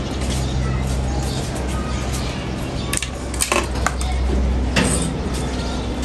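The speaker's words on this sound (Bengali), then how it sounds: "কলের থেকে অনেক সুন্দর করে ধুয়ে আনছি।" Something being washed under a running kitchen tap: a continuous rush of water with occasional clinks of dishes or utensils, close by, during home iftar meal preparation.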